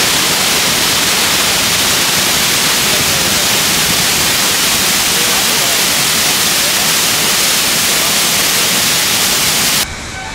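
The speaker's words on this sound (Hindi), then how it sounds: "थोड़ी थोड़ी सी दूरी के ऊपर बहुत सारे वाटरफॉल जाते रहते हैं और ऐसे ही एक वाटरफॉल पर हमने भी हमारा अगला स्टॉप ले लिया।" Waterfall in the Kerala hills near Munnar, a steady loud broadband rush of falling water filling the whole stretch without a break, then cutting off abruptly at the very end.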